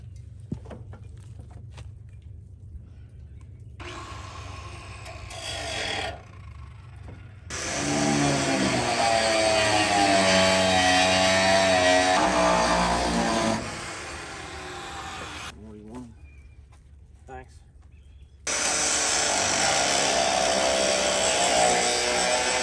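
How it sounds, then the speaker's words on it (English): Power grinder cutting away an existing air channel on a Central Boiler Classic Edge 550 Titanium HD outdoor wood furnace, loud harsh metal grinding in several bursts separated by quiet gaps, with the tool spinning up and down. "We have to grind this off right here."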